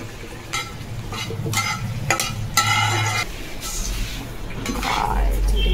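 Chicken frying in ghee in a pan gives a steady sizzle, with stirring scrapes and a few utensil clinks over a low background hum.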